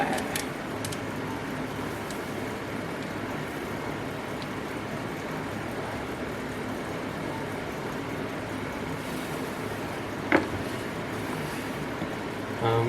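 Oil pouring out of a Tesla during an oil change makes a steady, faint, continuous trickling wash, with a brief sharp click partway through.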